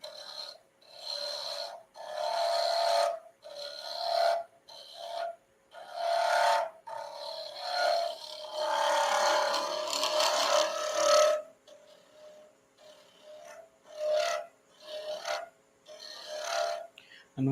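A carbide tool cutting a wood blank turning on a lathe in a woodworking shop, rhythmic rasping bursts in a repeating pattern with a steady motor tone underneath, close and moderately loud, with no voices.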